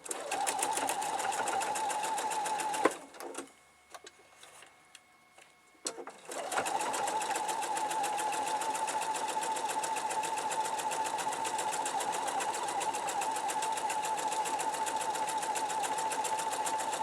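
Sewing machine stitching sapphire gem patchwork quilt pieces together. A fast, steady mechanical whirr runs close and continuous, stops for about three seconds with faint handling noise, then resumes at the same even pace.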